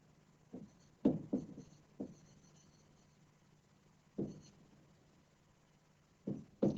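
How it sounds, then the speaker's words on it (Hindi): Marker or chalk strokes on a classroom board as word meanings are written during an eighth-grade English lesson: a few short, scratchy bursts spaced irregularly, close and fairly quiet, with no talk over them. "यहाँ पे मीनिंग लिखते रहते हैं।"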